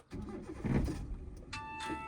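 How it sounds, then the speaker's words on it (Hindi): A car engine is started with the clutch pressed during a driving lesson. It gives a soft crank and catch, then a low idle, followed by a brief electronic chime. The whole sound is quiet. "क्लच दबा के इंजन ऑन करो"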